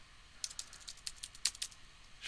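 Quick bursts of computer keyboard typing, a dozen or so close, crisp key clicks in uneven rhythm, with a louder clatter at the end and no talking.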